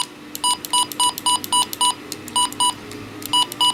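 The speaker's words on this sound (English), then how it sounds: "So here is the valid button beeps and the invalid." A RadioShack 21-1679A radio gives a run of short, clipped electronic button beeps in quick irregular succession, clear and close over faint background hiss.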